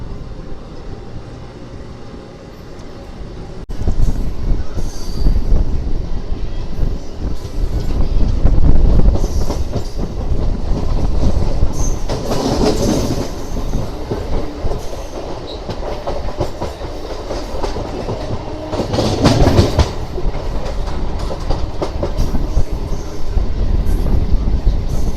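MEMU express train pulling out of a station and gathering pace, a loud rumbling roll with clattering wheels that swells and surges in bursts as carriages pass close by, continuing steadily throughout.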